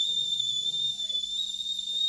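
A pressure cooker steaming idli lets out a sustained, piercing high whistle that holds steady from start to finish, while someone talks quietly underneath.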